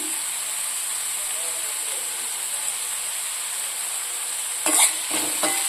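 Vegetable pieces with curry leaves fry with a steady, bright hiss in a pan, joined near the end by a couple of short stirring scrapes.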